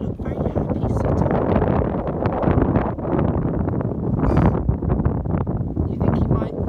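Strong wind at a beach in Australia buffets the microphone in loud, gusty rushes, with a voice talking underneath.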